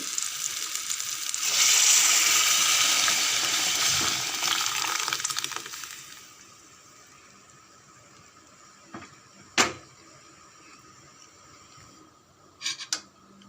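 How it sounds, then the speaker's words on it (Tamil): Loud, bright sizzling bursts up for several seconds as hot tempering is added to carrot sambar, then fades to a quiet hiss, with a few sharp clinks near the end. "சாம்பார் நல்லா கொதிக்குது ஸ்டவ் ஆஃப் பண்ணிவிடுங்க இப்போ தாளிச்சத்தில் சேர்த்துடலாம்"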